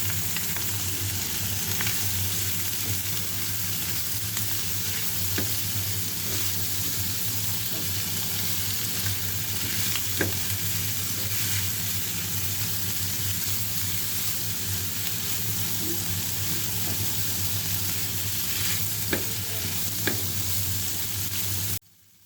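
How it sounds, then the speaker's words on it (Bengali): Drained pasta is stirred in a frying pan, giving a steady close sizzle with light intermittent scrapes and taps for about twenty seconds before cutting off abruptly. "এরপরে এতে ছেঁকে রাখা পাস্তাগুলো দিয়ে দিতে হবে এবং কিছুক্ষণ নাড়তে হবে।"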